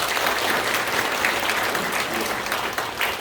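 Congregational applause fills a church anniversary ordination service, a steady, moderately loud wash of clapping from many people throughout.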